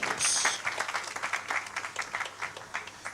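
Audience at a business workshop applauding a small-business founder, a dense burst of many hands clapping that continues steadily for a few seconds in an indoor room.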